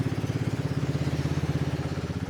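A boat engine roars steadily on a river in Kalimantan's Sangkulirang-Mangkalihat area, giving a loud, close, rhythmic low throb with no talking.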